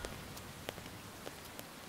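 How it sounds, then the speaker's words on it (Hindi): Rain falls in a steady, faint broadband hiss, dotted with occasional soft drop impacts, and no voices are heard. "यहाँ पर बारिश हो रही है"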